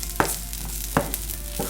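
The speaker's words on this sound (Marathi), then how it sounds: "आपलं आता वाटण चांगलं फ्राय होतंय" Masala paste with garlic and ginger frying in a pan, a soft steady sizzle punctuated by three sharp stirring scrapes of a spoon against the pan, close up and without voices.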